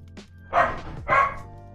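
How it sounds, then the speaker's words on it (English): Dogs in a house give two loud, close barks about half a second apart, with a faint yip before them and no talk. "Oh my gosh, my dogs."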